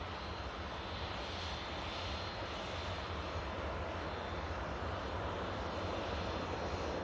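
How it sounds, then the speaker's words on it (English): A Ryanair airliner arriving from Milan Malpensa at Manchester Airport makes a steady, loud, broadband engine roar that holds evenly throughout without pause. "looks like a Ryanair, coming in from Milan Malpensa"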